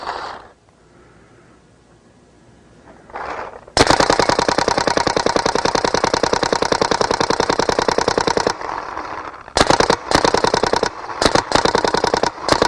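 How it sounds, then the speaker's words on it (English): A Smart Parts Vibe or SP-1 paintball marker running on chilled CO2 fires a long rapid burst of loud, close shots, then several shorter bursts after a brief pause. "You get a good velocity through it, but you can see you're still shooting."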